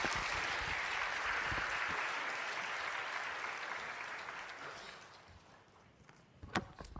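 Church congregation applause welcoming a pastor, a broad even wash of clapping from many hands that gradually thins and fades toward the end, leaving a few scattered knocks.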